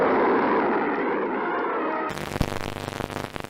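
An Honest John missile launch in 1961 military footage: a loud, sustained rushing roar that cuts to sharp blasts and rumbling bursts as the rocket fires.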